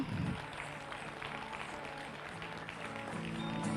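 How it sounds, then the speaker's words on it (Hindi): Audience at a leadership training event applauds, a faint, steady wash of clapping heard from a distance, running continuously. "जोरदार तालियां।"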